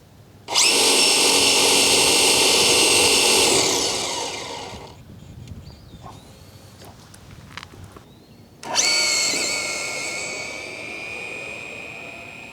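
Traxxas Drag Slash RC drag car on a 2S LiPo battery makes a drag run: a loud, high electric motor whine screams past for several seconds and fades, a quieter gap with faint clicks follows, then a second loud whine rises again.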